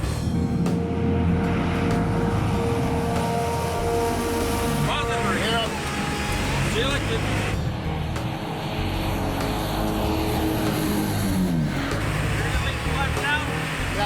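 Electra four-engine propeller airliner in flight, a steady loud drone of engines filling the cabin throughout, with people talking over it.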